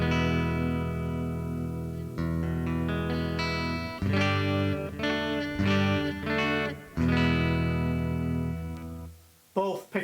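Harley Benton SG-style electric guitar played clean on the neck pickup, sustained chords and picked notes ringing warmly and loudly with short gaps between phrases, no talking.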